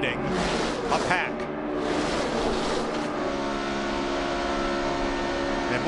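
A pack of NASCAR stock cars snarls past at the 2011 Budweiser Shootout, a dense, loud engine roar holding steady throughout with race commentary talking over it.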